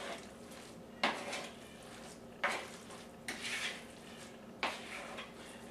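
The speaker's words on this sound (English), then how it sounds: "Now I've stirred up my crab meat" Crab meat is stirred in a bowl, with four sharp scraping clinks of a utensil against the dish at irregular intervals over a quiet background.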